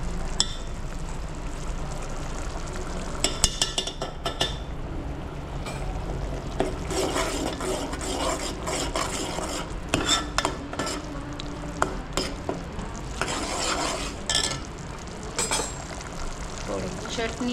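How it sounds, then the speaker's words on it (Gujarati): Turmeric and chutney being stirred into a gravy in a pan, a continuous low sizzle with repeated scraping and clinking of a spoon against the metal, close and busy. "આપણે થોડીક હળદર ને ચટણી બધું મિક્સ કરી દઈએ."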